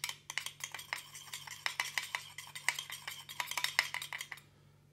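Sugar, vanilla sugar and egg being stirred for sablé biscuit dough, a utensil clicking rapidly and rhythmically against the side of a bowl, quiet and close, before stopping.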